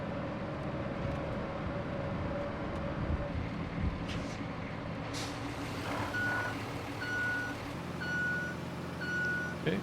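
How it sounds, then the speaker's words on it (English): A truck in the game RoadCraft rumbles steadily at low level, with repeated reversing beeps and an air brake hiss in the background. "Okay, truck made it across."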